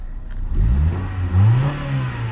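1999 Honda Civic engine, recently fixed with a new head gasket after bad misfiring, running and revving up in a couple of rising pulls, close and fairly loud.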